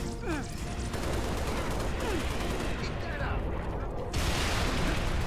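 Rapid gunfire bursts from a weapon in the video game Halo Reach, steady and dense throughout amid constant battle noise and game effects, with a louder stretch near the end.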